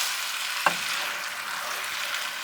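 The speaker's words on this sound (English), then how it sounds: "I'm going to give it a good stir." Hot tomato pasta sauce bubbles and sizzles steadily in a pot as it gets stirred, with one sharp knock of the spoon against the pot early on over the constant hiss.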